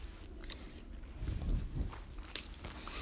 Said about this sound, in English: I'm not sure if this is getting annoying if you guys keep hearing me chewing gum